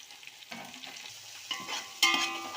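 Onion and tomato sautéing in a pan for chicken biryani: a spoon scrapes and stirs in short clattering bursts over a soft, steady sizzle, loudest near the end.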